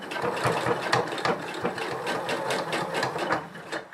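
A sewing machine stitches cut-and-sew foam bra cups over an existing seam, a close, rapid mechanical rattle with a steady pulsing rhythm running without pause and no talking.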